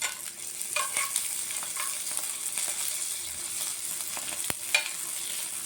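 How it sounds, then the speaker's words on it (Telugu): Chillies fry in hot oil as a tempering for chutney, giving a continuous crackling sizzle with occasional stirring scrapes and pops. No one speaks. "చూసారా, మిరపకాయలు ఇలా వేగితే బాగుంటుంది."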